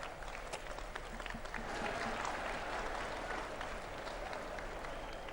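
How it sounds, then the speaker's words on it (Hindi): An audience claps at the Patanjali Research Institute inauguration in Haridwar, a broad, even patter of many hands continuing steadily at moderate distance. "आपकी जोरदार करतल ध्वनि के मध्य में श्रद्धेय आचार्य श्री माननीय मुख्यमंत्री महोदय का अभिनंदन कर रहे हैं।"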